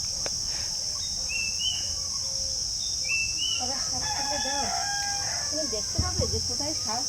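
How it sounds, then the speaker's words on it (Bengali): A rooster crows repeatedly in an outdoor rural setting around late morning, its calls moderately distant and answered by other fowl, over a steady background of insect chirping. "মোরগ তো খুব ডাকছে"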